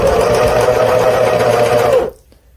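Serger sewing machine stitching back over a missed spot in sweater fabric, a loud close rapid mechanical whir lasting about two seconds before stopping abruptly into quiet.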